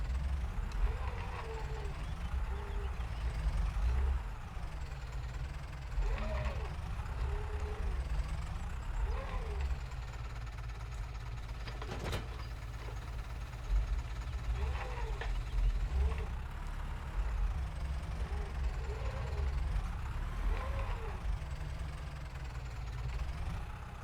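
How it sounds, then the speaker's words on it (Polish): A tractor engine in Farming Simulator 25 holds a steady, deep idling rumble with a faint rhythmic knock throughout, while someone talks over it. "Ale dźwięk ma, słuchajcie, silnik ma rasowy"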